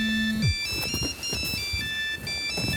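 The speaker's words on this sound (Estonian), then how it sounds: "Telefon heliseb." A telephone rings with a bright electronic ringtone, repeating tonal chimes close and clear, with no voices.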